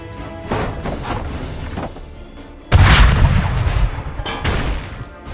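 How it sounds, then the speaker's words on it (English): A cannon fires in an Assassin's Creed III battle during the Tyranny of King Washington episode: a heavy, loud boom bursts out midway, layered with rumbling battle noise and further distant thuds and blasts. "Help me load the cannon!"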